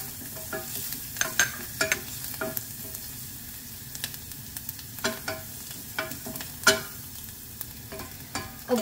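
Chopped garlic sizzles steadily in a pan for a Filipino chicken tinola, with repeated scraping stirs in an irregular rhythm. The sound is close and moderately loud, and no one talks over it.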